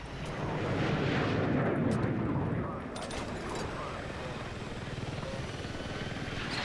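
Helicopter in the video game Battlefield 6, a loud rotor and engine roar that swells and then settles into a steady rhythmic drone, with someone talking over it.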